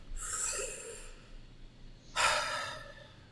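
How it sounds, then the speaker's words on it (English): A deep breath taken indoors, heard as a long, close breathy inhale followed after a short pause by a stronger exhale. "Let's start with a deep breath."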